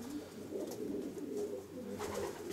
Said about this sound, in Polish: Jak widzimy, gołębnik zorganizowany w dosyć typowy sposób. Gołębie młode